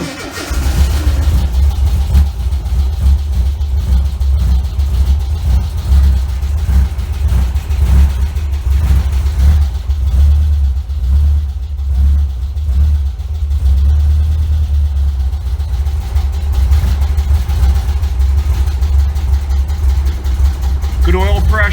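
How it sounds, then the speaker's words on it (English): A car engine runs at a steady idle for the whole stretch, a loud, continuous low rumble close by with slight fluctuations in its throb. "you can see my foot's off the fuel and she's idling on her own"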